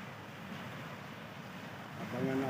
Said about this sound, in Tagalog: Panoorin muna natin yung mga hampas ng alon.